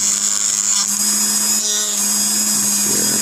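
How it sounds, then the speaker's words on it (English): A fresh cutting wheel on a rotary tool cuts into a spent bullet shell casing, a loud continuous high-pitched whine with a grinding edge that holds steady throughout at close range. "I'm going to cut it so that the edge of the cutting wheel, the spin is aiming the shavings away"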